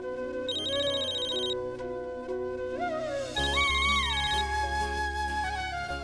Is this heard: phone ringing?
yes